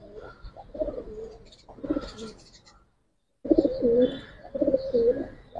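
Pigeons, both Giribaz and colored breeds, coo repeatedly at close range in soft, throaty bursts with a brief pause midway, and no voices are heard.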